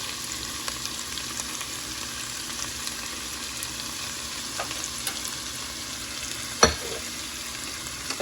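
Potatoes fry in a pan for Ethiopian firfir, giving a steady close sizzle with light stirring scrapes and one sharp clatter near the end; no one speaks.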